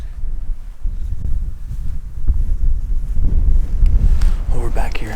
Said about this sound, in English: Seriously, it's windy.